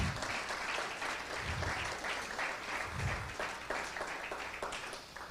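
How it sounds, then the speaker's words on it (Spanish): Steady, dense applause from a large church congregation fills the whole stretch, with a few louder swells and no talking over it. "Denle un fuerte aplauso a Rey en esta noche."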